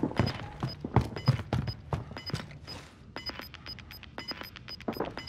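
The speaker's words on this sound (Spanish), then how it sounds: "Escucho paso." Quick, light footsteps patter in a steady rhythm, crisp and close, mixed with sharp clicks and game sounds.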